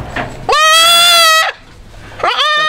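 Goat kid bleating loudly during disbudding on a farm: one long, strained, wavering cry held for about a second, followed by the start of another after a short gap, close and alone without speech.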